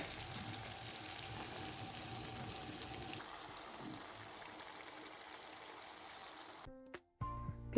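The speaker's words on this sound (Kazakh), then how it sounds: "Қызып тұрған майда дайын болған пирожкиіміздің екі жағын қызартып," Pirozhki fry in hot oil with a steady, dense sizzle and crackle for most of the stretch, then cut off abruptly near the end, followed by a brief clatter.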